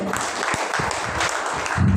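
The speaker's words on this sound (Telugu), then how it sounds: "గట్టిగా చప్పట్లు కొడదామండి" A church congregation at Sunday worship claps together loudly in a dense, continuous burst of applause that fills the short moment.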